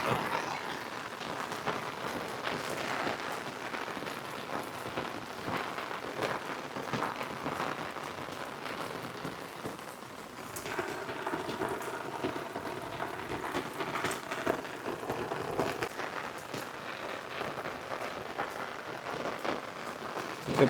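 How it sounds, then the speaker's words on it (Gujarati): Heavy rain pours steadily on a Sunday, a dense continuous hiss and patter that stays even and fairly soft throughout, with no voices. "આજ તો વરસાદે બૂમ પડાઈ છે"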